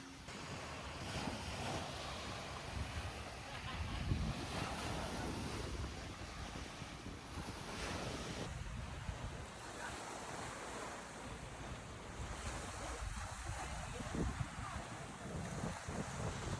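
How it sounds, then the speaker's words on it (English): Sea waves wash onto the shore at Koh Lipe, Thailand, a continuous soft surf blended with gusty wind rumbling on the microphone, heard faintly from a distance with no voices. "The sea from here looks amazing though."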